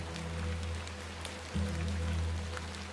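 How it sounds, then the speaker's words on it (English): Steady evening rain falls in a video game, a continuous soft hiss of drops on surfaces with a low ambient hum beneath, holding even throughout with no speech. "Terrible weather this evening, is it not?"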